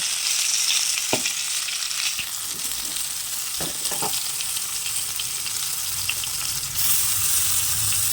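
Potatoes fry in oil with fenugreek seeds tempering for a spinach curry, a constant bright sizzle with a few soft knocks of a utensil against the pan, close and even throughout.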